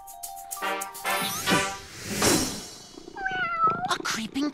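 A cat meows in a children's show scene about creeping past sleeping sea dogs, a couple of rising, wavering calls partway through, mixed with music, chimes and other cartoon sound effects.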